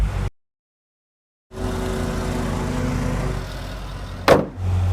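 A car with an LS7 engine idling steadily after a short dropout, a low even rumble interrupted near the end by a brief sharp burst.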